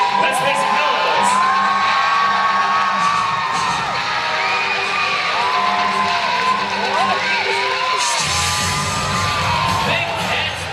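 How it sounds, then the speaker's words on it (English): Audience in the bleachers at an extreme dogs competition cheering, screaming, whooping and hollering continuously and loudly, with children's shouts and whistles over a dense crowd roar. "If you have some feet stomping in the bleachers, start to scream, whistle, hoot, and holler, audience"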